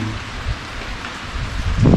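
Rain falls at a beach campsite, a close, loud, steady wash of drops with a heavier rumble near the end and no voices.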